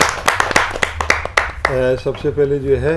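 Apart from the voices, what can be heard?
audience applause for a poet at a kavi sammelan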